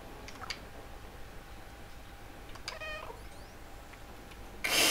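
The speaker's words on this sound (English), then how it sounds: "I just meowed by accident." A cat in the video game Stray gives a couple of short, thin meows over a quiet background hum, followed at the end by a sudden louder burst of noise.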